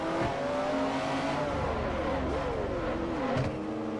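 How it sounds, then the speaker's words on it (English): A McLaren race car laps Tsukuba in Forza Motorsport 4, its engine holding a steady high whine that climbs and dips through gear changes, with a brief tire squeal, continuous and close. "driving around Tsukuba with this McLaren"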